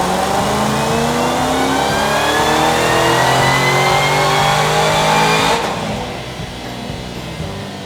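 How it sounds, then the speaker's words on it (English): A 2014 Ford Shelby GT500 on a dyno during a baseline pull, its engine revving up loudly in a long, steadily climbing wail before cutting off abruptly and settling to a lower drone near the end. "we just did our baseline dyno pull"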